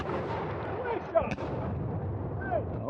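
A cannon booms once, briefly and at a distance, at an 18th-century American Revolution war reenactment, amid loud shouted commands and voices that continue around it.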